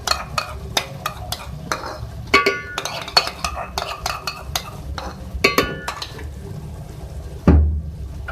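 Yogurt stirred into beef and turai (ridge gourd) keema in a pan, with a spoon scraping and clinking against the pan in irregular strokes over a low frying sizzle, close and moderately loud, no talk.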